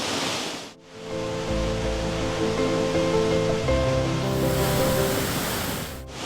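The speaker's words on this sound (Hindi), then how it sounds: "इतने बड़े वाटरफॉल के पीछे से आप लोगों ने कभी वॉक किया है क्या?" A large waterfall roars in a steady, loud, broadband rush while walking behind the falling water, with faint tonal hum underneath and no speech.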